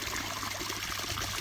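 Water runs steadily down a garden pond waterfall fed by a 2-inch pipe, a soft continuous trickle and splash heard close and alone at low level.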